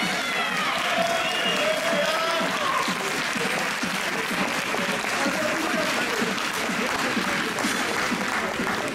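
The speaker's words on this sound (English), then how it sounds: "So a massive round of applause." Audience applause at a NABBA Universe bodybuilding contest during the toned figure callouts, a continuous wash of many hands clapping with crowd murmur and scattered voices underneath, steady throughout.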